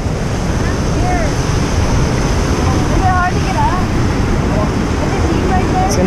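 Hume Lake's waterfall gives a steady, loud rushing roar with some wind buffeting, while faint bird chirps and distant voices sit under the constant water noise.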